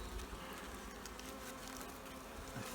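Honey bees buzzing steadily around hives in an apiary, a dense continuous hum of many insects close by with no voices.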